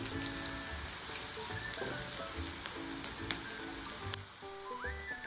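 Finely chopped onions, two of them, fry in hot oil in a pan for a potato capsicum dish, giving a dense, even crackling sizzle heard close and without any talking.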